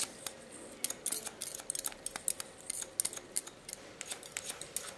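Scissors snip quickly through a woman's hair during a haircut, giving rapid, crisp, close clicks in irregular clusters with no talking.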